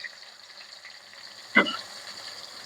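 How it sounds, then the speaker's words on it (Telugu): Chopped onion fries in a pan for poha, a soft, even sizzle throughout, broken once by a brief utensil clank. "ఆనియన్ కూడా కొంచెం ఫ్రై కావాలి."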